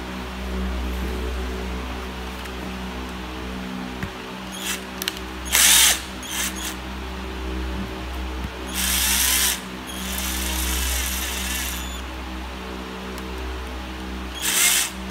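Power tool driving and tightening screws on a 24 mm racing carburetor for a Honda Wave motorcycle, several short whirring bursts of a few seconds each over a steady low hum, fairly close.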